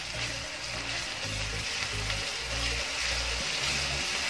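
Ginger garlic paste fries with golden brown onions in a pan for an egg curry, a steady close sizzle that keeps up without a break.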